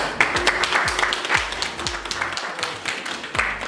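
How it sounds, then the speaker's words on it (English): Applause at the closing ceremony of the GOOS Africa first training course, steady clapping from a room of people with rhythmic low thumps running underneath, moderately loud throughout. "A round of applause for him."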